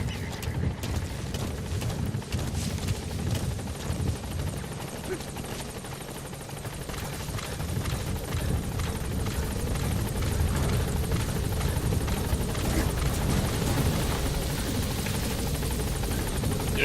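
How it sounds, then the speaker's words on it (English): In the video game Metal Gear Solid V: The Phantom Pain, the Pequod support helicopter arrives at the landing zone with a steady, dense rotor thrum that holds for the whole stretch and grows slightly louder toward the end. "Support helicopter has arrived."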